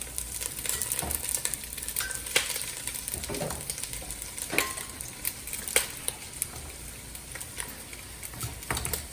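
Spare ribs for crispy beef tadyang sizzle and fry steadily in a pan with onions, with occasional stirring clinks and soft pops, close and continuous with no talk.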